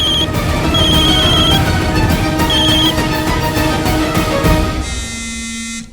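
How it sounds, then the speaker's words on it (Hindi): A phone rings with an incoming call, a loud repeating tonal ring pattern with bright chime-like bursts throughout, cutting off near the end into a quieter tone. "अब दादी का कॉल आ रहा है"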